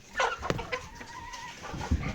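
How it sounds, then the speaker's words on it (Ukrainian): Hens cluck softly and intermittently nearby in a backyard flock, a few short calls and a drawn-out note, with some light thumps in the background. "Так, це моїх курочок."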